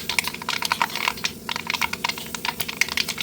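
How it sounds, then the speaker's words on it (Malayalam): Mustard seeds pop and crackle in hot coconut oil as a tempering for a koorkka (Chinese potato) masala, a dense, rapid run of sharp clicks and snaps that fills the whole stretch, with no voices. "കടുക് പൊട്ടുന്നുണ്ട്."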